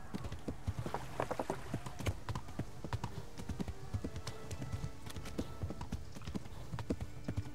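Horse hooves clip-clopping at a fast gallop in a medieval video game, a steady rapid rhythm of close, moderately loud hoofbeats running through the whole stretch, with a faint whinny early on.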